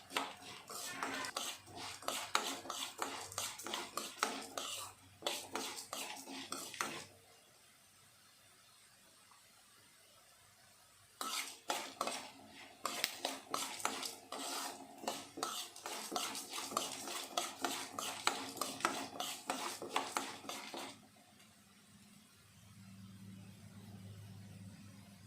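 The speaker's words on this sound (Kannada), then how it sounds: "ಈ ರೀತಿ ಮಧ್ಯೆ ಮಧ್ಯೆ ತಿರುಗಿಸ್ಕೊಂಡು ಚೆನ್ನಾಗಿ ಫ್ರೈ ಮಾಡ್ಕೊಬೇಕಾಗುತ್ತೆ" Coriander seeds dry roasting in a pan for homemade Vangi Bath spice powder, stirred with a metal spoon: brisk scraping and clinking bursts, then a quiet pause, then another long stretch of stirring, close and fairly loud with no talk.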